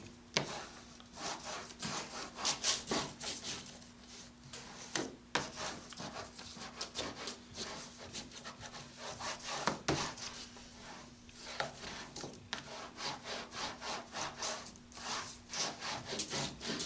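A bone folder or similar tool is rubbed repeatedly across a folded paper signature to burnish it flat for Coptic binding, giving soft dry scraping strokes in an uneven rhythm, close and quiet with no talk.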